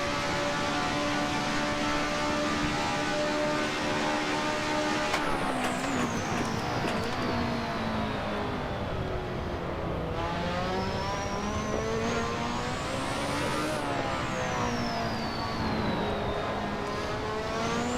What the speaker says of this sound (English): I say I love the turbo noise.